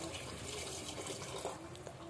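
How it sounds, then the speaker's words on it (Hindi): Water pours steadily into a pot of rice in a pressure cooker in a home kitchen, a continuous soft rushing splash. "तो यहाँ पर मैं पानी ऐड कर दिया है"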